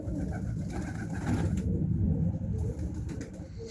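Pigeons in an aviary coo in low, throaty murmurs, layered with a soft rumble of fluttering and movement, close by and fairly continuous.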